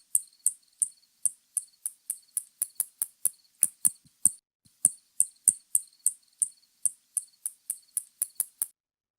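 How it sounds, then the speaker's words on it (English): Spotted bat echolocation calls, audible as a fast series of about thirty sharp, high ticking chirps at a steady, slightly uneven rhythm, clear and close with no voices. "It was a spotted bat. Yeah, pretty classic spotted bat call right there."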